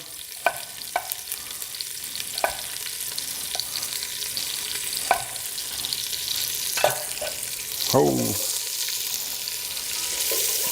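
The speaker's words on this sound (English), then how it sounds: "I know it's hot, you can hear it. Now that sizzle right there" Onions sizzle loudly in hot bacon grease, a constant crackling hiss dotted with sharp pops, and someone briefly exclaims partway through.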